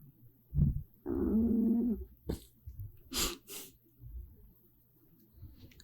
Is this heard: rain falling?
no